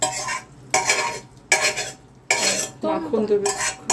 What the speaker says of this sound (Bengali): এবার ডালটা এর মধ্যে ঢেলে দেওয়া হচ্ছে, দিয়ে ভালো করে কষিয়ে নেওয়া হবে।